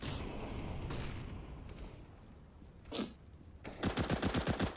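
FAMAS rifle in Counter-Strike firing a rapid burst of about a dozen sharp shots near the end, after a quieter stretch with a single loud crack, with no voice over it.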